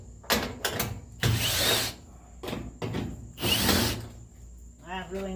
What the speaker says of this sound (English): I just start unscrewing every bolt I can see.